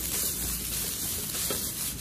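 Seaweed fried rice is stir-fried with a spatula in a wok over high heat, producing close, steady scraping and rubbing with a faint sizzle underneath.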